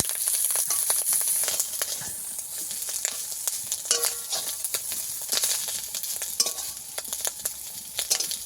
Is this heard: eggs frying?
yes